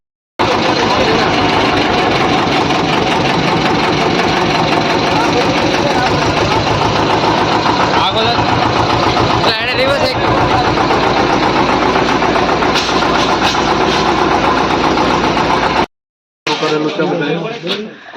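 An Eicher tractor's diesel engine turns over and settles into a loud, steady chugging idle close by, running continuously before cutting out near the end, with brief lower noise afterward.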